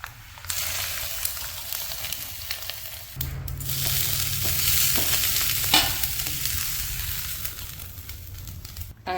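Rice fries in tempering oil, a steady close sizzle with scraping stirs, swelling louder partway through and continuing without voices.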